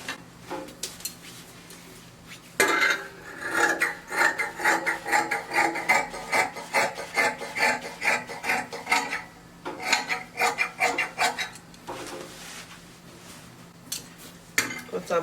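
Scissors cut fabric for a half butterfly bubu dress, heard as close, repeated crisp snipping and rasping strokes in bursts across the table, pausing briefly between runs of cuts, with no talk over them.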